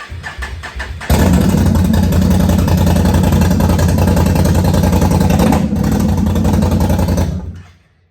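A 2022 XMR 650 ATV engine with a straight-pipe exhaust cranks briefly, then fires up into a loud, raspy, unmuffled rumble that holds steady for several seconds before cutting off.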